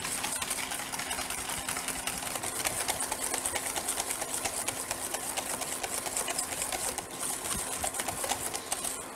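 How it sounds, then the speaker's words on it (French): Egg yolks and sugar are whisked briskly in a bowl for pastry cream, making a fast, even rattling and scraping that runs without pause and with no voices. "Donc là, on va fouetter 2-3 minutes."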